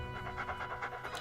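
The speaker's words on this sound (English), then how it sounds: "10 out of 10 dog bark." Rapid panting breaths from the Inugami dog demon in Shin Megami Tensei V, a quick rhythmic huffing that is brief and fairly faint.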